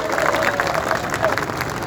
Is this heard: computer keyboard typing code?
no